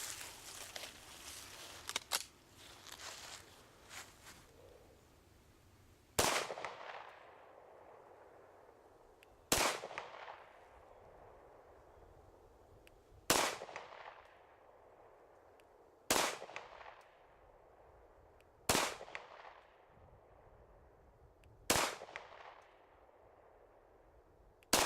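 A Glock 34 MOS pistol with standard sights fires slow, single shots at a target fifteen yards away, six sharp, loud cracks about three seconds apart, each with a short outdoor echo, after some quieter handling noise.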